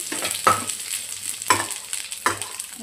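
Grated coconut roasting in oil in a pan over a low gas flame, with a soft continuous sizzle and three distinct stirring scrapes spaced about a second apart, close and moderately loud.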